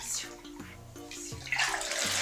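Water splashes and sloshes in a bathtub while a two-year-old child bathes, with voices talking over the watery sounds and the splashing growing louder toward the end.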